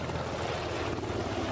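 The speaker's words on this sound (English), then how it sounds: "These ships can carry two SH-60BR Seahawk helicopters." An SH-60BR Seahawk naval helicopter roars with a dense, continuous rotor and turbine wash, loud and steady throughout with no pauses.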